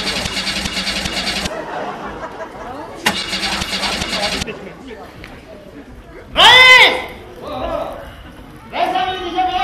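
A car engine is cranked and started in repeated bursts, with loud broadband starter whirring in long stretches, then a voice or animal-like cry and renewed engine noise near the end, with people talking nearby.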